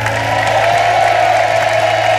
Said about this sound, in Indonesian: Tepuk tangan dulu buat para panelis